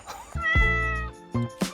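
A cat meows outdoors along a walking trail, one long drawn-out meow followed by two shorter calls, close and clear with no talking over it.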